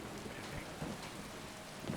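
Rain falling in the video game Skyrim, a dense steady wash of rainfall with a low rumbling undertone, constant and moderately loud with no pauses.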